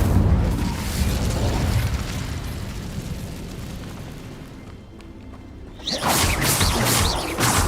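A roaring, whooshing burst of magical flame from an Incendio spell in Hogwarts Legacy, loud and sustained at first, then fading before a second bright crackling blast.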